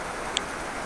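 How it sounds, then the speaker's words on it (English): Tropical rain falls in a steady, dense hiss that fills the whole moment, with one tiny tick near the middle and no voices. "It's fucking rain, man."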